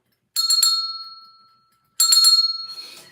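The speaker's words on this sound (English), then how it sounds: "So I had this little bell, and I said, well, maybe I'll ring the bell when I start my live." A small hand bell rings twice in quick shaken bursts, each bright metallic jingle fading into a long decaying ring, close and alone.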